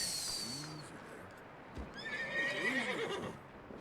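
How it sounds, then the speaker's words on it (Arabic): Horse in Red Dead Redemption 2 whinnies twice, close and clear, with a few hoof clip-clops between the calls. "ايزي يا حصان"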